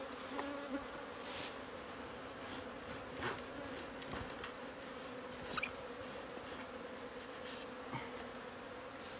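Japanese honey bees buzz steadily around an old style wooden hive, a dense continuous hum close by with no talking.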